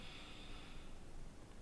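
One nasal in-breath, taken during yoga in bed, sounds as a close, soft and steady intake with a slight snort-like edge, tapering off before a quiet pause.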